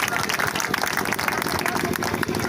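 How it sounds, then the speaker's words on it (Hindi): Audience applause at a Shilalekh Mahotsav festival gathering at Moriya Math on Basaha hill in Kaimur: dense, steady clapping from a large crowd that fills the whole stretch without a break. "मैं चाहता हूँ हमारी बहनों के लिए जोरदार ताली आप सभी की तरफ से"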